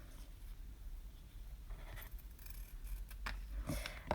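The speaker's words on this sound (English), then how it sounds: "with our second balloon and our scissors, I'm just going to very carefully cut off the neck" Scissors snipping through the rubber neck of a balloon at a craft table, a few faint crisp cuts and rubbery rustles close by, quiet and without talk.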